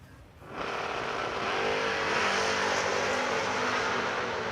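Drag race cars at a Working Man's $10 Grands event launch down the strip, a sudden loud roar of engines bursting in after a brief quiet moment and holding steady and powerful.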